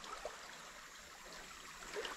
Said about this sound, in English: So this is Beaver Dam Creek right here.